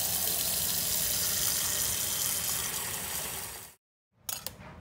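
Syrup being poured from a tap-like stream into jars of Georgia peaches for canning, a steady close liquid rush that stops abruptly, followed by a few brief clinks and clatters.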